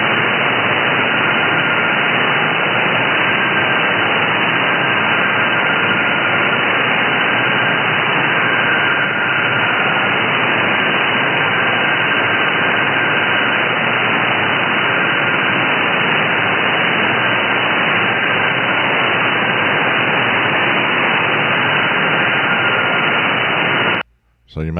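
Shortwave radio received on an SDR gives a loud, unbroken hiss of white noise with a faint steady tone from a Navtex digital signal inside it, cutting out abruptly just before the end.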